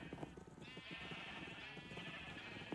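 Sheep in Minecraft bleat repeatedly, nasal wavering calls overlapping over a busy game background with soft footstep-like thumps, fairly close and clear.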